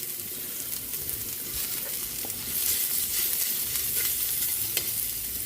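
Ginger and garlic frying in a pan, a steady close sizzle with occasional light stirring clicks, continuous throughout with no talk.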